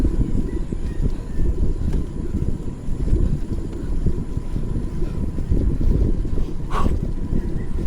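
Strong wind buffets and rumbles continuously while riding a gravel bike up Mt. Arayat, a dense low roar pressing close with gusty fluctuations.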